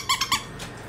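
A small squeaky dog toy is squeezed three times in quick succession, each squeak short, bright and close, followed by quiet.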